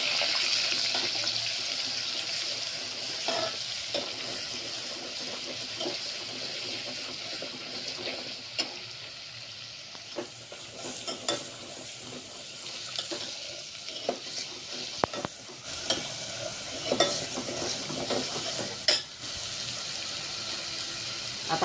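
Ginger garlic paste, two spoonfuls, frying in a pan while being stirred, with a steady soft sizzle and repeated scraping stir strokes throughout, close and moderately loud, no talk.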